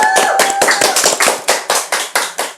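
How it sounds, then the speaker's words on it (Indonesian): An audience claps for a legislative candidate at a Bogor city campaign event, a dense burst of handclaps that settles into a steady, loud rhythmic beat of about a dozen claps, with no talking. "Tepuk tangan dulu dong."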